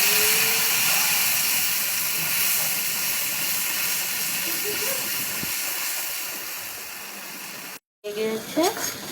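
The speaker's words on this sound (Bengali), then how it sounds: "মশলাটা এখন ভেজে নেব।" A paste of chili powder and cumin powder fries in a pan with a steady, bright hiss that slowly fades, then cuts out abruptly before a few scattered crackles and clatters return at the end.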